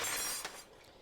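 A tea table shoved onto its side sends its tea fineries crashing to the ground: a sharp burst of shattering glass and clinking china, loud at first and then quickly fading, with no voices.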